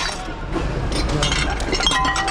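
Discarded glass kitchenware, some of it broken, is handled while being sorted from a dumpster: a run of sharp clinks and rattling glass knocks, close and irregular, over faint background noise.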